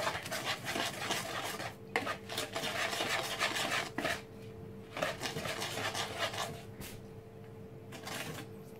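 A spoon stirs sugar into apple cake batter in a bowl, with close, steady rubbing and scraping strokes and occasional light clinks against the bowl; no one speaks.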